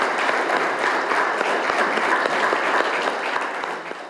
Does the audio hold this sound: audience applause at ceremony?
yes